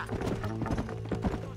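Horse hooves clip-clop in a quick, even rhythm in the Red Dead Redemption video game, close and steady over a brief stretch, with a low voice underneath.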